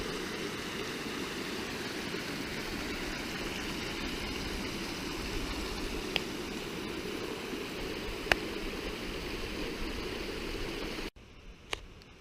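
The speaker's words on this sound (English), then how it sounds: "look at these spectacular waterfalls" Steady, broadband rushing of water pours on without a break, a constant roar like a waterfall heard from fairly close, with a couple of faint clicks; rain-swollen waterfalls pouring off hilltops in the Lake District.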